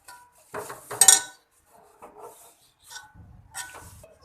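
A spoon scrapes and stirs through mutton and spinach in a metal pressure cooker in a few short, uneven strokes with quiet pauses between.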